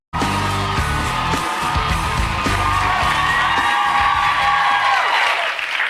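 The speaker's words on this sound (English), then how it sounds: "It's amazing how loud people clap when they do this." Loud audience applause and cheering, with whoops and yells over dense clapping, sustained throughout and fading slightly at the end.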